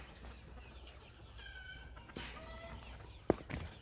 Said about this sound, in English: Sounds like somebody's laying an egg.